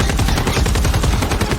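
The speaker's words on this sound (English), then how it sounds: "Kinney asked the fighters to fire assault rifles at them and drop missiles" Sustained assault rifle fire in a film battle scene, a dense, continuous rattle of rapid shots with no pauses, loud and close.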